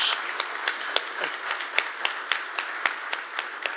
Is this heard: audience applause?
yes